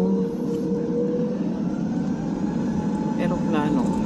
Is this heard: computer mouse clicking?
no